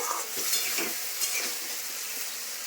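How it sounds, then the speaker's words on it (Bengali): Ground spices frying in oil in a pan for a spicy Bengali fish curry with bhola fish, giving a steady, soft sizzle with light stirring scrapes, close and continuous, with no voices. "ঢাকবো না, আমি এভাবেই কষাবো।"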